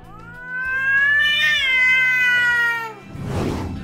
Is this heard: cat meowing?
yes